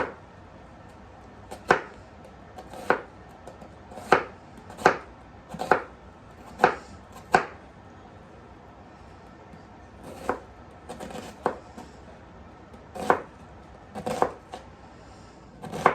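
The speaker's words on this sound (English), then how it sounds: "Get it chopped up real fine." A knife chopping celery finely on a cutting board, sharp distinct knocks coming in irregular bursts and clusters with quiet gaps between, close and clear, no speech.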